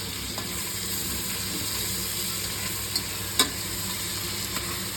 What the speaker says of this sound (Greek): Να σοτάρουμε και λίγο.